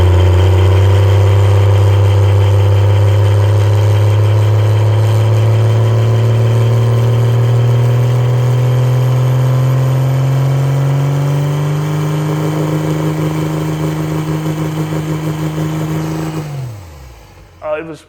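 A turbocharged first-generation race truck engine holds a loud, steady drone that rises slowly in pitch as the turbo spools toward boost, then cuts off sharply near the end.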